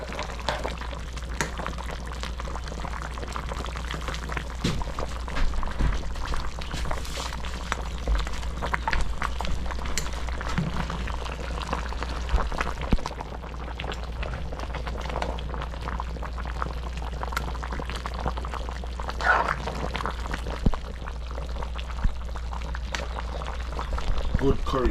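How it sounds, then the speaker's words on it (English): Curry chicken simmers in a pot on a Jamaican food truck, a steady low bubbling and boiling hiss that runs throughout under kitchen noise, with people talking at times. "Just letting him simmer for a little bit."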